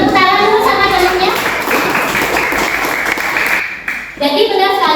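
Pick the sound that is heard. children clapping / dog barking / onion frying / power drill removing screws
children clapping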